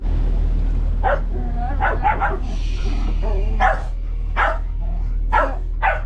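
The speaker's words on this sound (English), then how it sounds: "our dogs are a little stir crazy." Playing dogs bark in sharp, irregular bursts, some yips mixed in, close by over a steady low engine hum.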